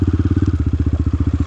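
A motorcycle engine idling close by with a fast, even thumping pulse, loud and steady throughout with no voices.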